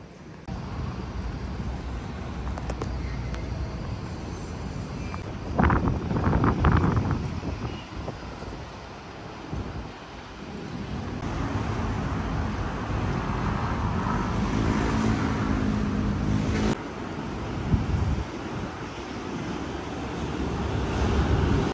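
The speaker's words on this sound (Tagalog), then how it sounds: "Ayos to, mahangin dito." Steady wind buffeting the microphone, a broad rushing roar throughout with gusty swells and a few louder bursts, no voices.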